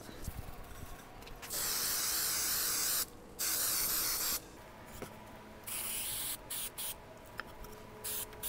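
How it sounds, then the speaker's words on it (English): Spray adhesive hisses from a can onto one side of a plywood piece in several long, loud bursts with short pauses, followed by shorter sprays and faint handling noises. "I'll spray adhesive one side of this piece of plywood"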